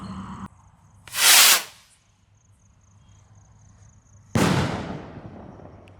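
Two sharp whooshing bursts of rocket fireworks, each a loud rising hiss that trails off, separated by a few seconds of quiet.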